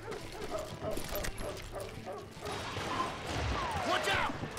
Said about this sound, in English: That dog needs to calm down.